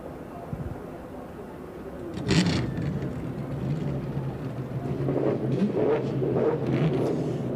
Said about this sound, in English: those racing engines must now scream for the next 10 hours